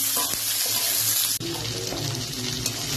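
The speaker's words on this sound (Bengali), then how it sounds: "ক্যাপসিকাম গুলোকে একদম হালকা ভাবে ভেজে নিতে হবে" Capsicum frying lightly in oil in a pan, a steady broad sizzle that shifts abruptly partway through as if stirred or moved, with no talk over it.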